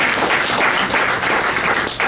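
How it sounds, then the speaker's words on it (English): A dense round of audience applause fills a city council meeting hall, steady and loud throughout with many hands clapping at once and no voices over it. "So I just want to give us a round of applause."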